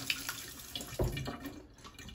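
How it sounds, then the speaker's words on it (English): Running water from a tap splashing over hands as they are wet before handling sticky bread dough, a steady close wash with a brief louder splash midway. "So the way I handle it is I get my hands wet."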